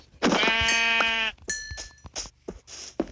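Sheep in the Minecraft video game bleat several times, one long wavering bleat followed by a few shorter bleats, close and clear with no talk.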